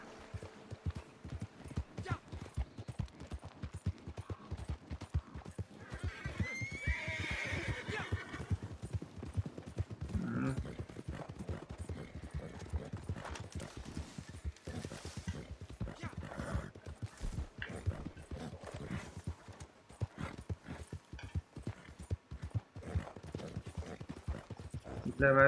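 A horse in the Red Dead Redemption 2 video game, with dense rapid clip-clopping hooves running throughout, a neigh partway through, and someone talking over it.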